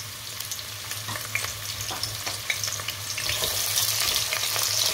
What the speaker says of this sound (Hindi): ऑयल गरम हो चुका है, प्याज डालेंगे।